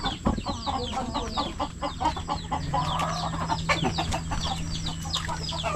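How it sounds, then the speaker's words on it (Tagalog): A flock of chickens clucks continuously at close range, overlapping calls forming a steady farmyard chatter, with no clear talking. "Ang daming manok niyo dito."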